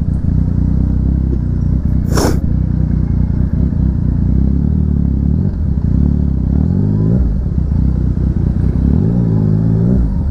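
A Yamaha MT-09 motorcycle is ridden, its engine note loud and steady throughout, with dips and swells as the throttle changes and a brief sharp clatter near the two-second mark; no one speaks.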